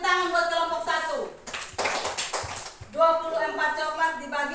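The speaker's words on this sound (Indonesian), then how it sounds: "Kita beri tepuk tangan buat kelompok 1" A classroom of students claps for a group after its presentation in a school lesson. The burst of clapping lasts about a second and a half, with a teacher's voice before and after.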